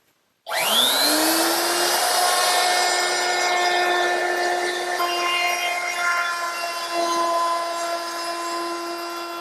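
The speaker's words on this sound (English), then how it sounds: "I'm going to use my 1/4 inch rounding over bit" A router fitted with a 1/4 inch round-over bit whines steadily as it shapes the edges of ash boards for a drop leaf table, a loud continuous high-pitched motor tone with no talking.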